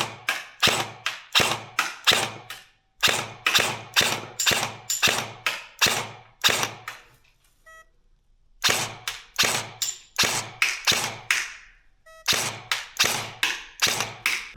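Krytac airsoft rifle shooting .32 BBs at a 20-meter target: sharp snapping shots fired in quick bursts of several rounds, close and crisp, with a couple of short pauses between strings.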